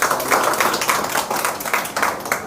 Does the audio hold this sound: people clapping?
yes